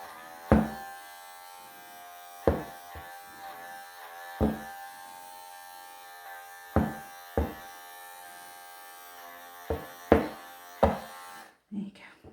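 Electric clippers buzz in a quiet, continuous hum while shaving a Ragdoll cat into a lion clip, with soft handling thumps at intervals and no clear talk.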